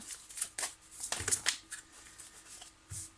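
Tarot cards being shuffled and handled, with light papery flicks and riffles coming in short irregular bursts, close and fairly quiet, with no voices.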